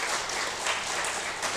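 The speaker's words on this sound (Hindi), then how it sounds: "अपने सनातन धर्म के लिए एक बार तालियां बजाएं" An audience at a Sanatan Dharma poetry gathering breaks into steady, full applause, a short continuous wash of clapping with no voices over it.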